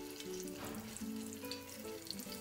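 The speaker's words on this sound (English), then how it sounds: "it sounds like that our oil is ready" Dandelion fritter batter frying in hot oil, a steady close sizzle that runs through the whole moment with soft bubbling crackle and no talking.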